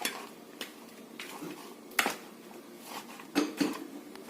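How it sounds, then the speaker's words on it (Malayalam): Spoon stirring an onion pickle mixture in a bowl, with soft, irregular clinks and scrapes close up and a few sharper knocks against the dish. "ഇനി നമുക്ക് നന്നായിട്ട് ഇളക്കി കൊടുക്കാം."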